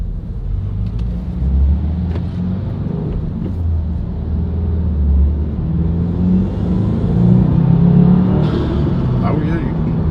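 A 2022 Subaru WRX turbo engine fitted with an ETS intake, heard while driving as a steady low rumble that swells slightly under acceleration, close and continuous throughout.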